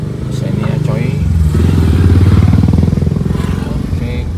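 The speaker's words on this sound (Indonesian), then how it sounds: "ini jalan banyak pemotor-pemotor yang ini mungkin lebih enjoy pakai motor" Motorcycles ride past on a road between Cibubur and Bogor, their mid-pitched engine drone rising loudly as they pass close by and then easing off, heard under a person talking.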